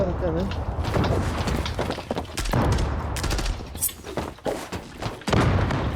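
Grenade blasts and dense gunfire in the online shooter Zula, heavy thumping booms mixed with rapid automatic shots, loud and close, with players talking over the combat throughout.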